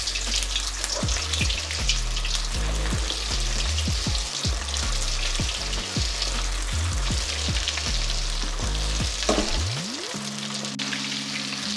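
Chicken pieces for chilli chicken frying in hot oil, a loud continuous crackling sizzle with intermittent bubbling pops and low clunks from the pan, steady throughout.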